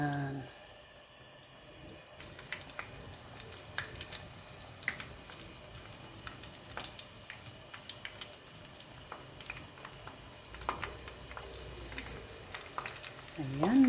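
Squash flowers stuffed with ricotta cheese frying in oil make a steady, low crackling sizzle with scattered faint pops and ticks, continuing quietly throughout with no voices.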